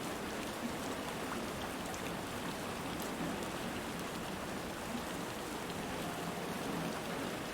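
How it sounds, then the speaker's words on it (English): Steady rain falling on surfaces, a dense, even hiss of raindrops that stays constant and moderately quiet throughout, with no voices. "relaxing about rain sounds. There's a certain vibe to it."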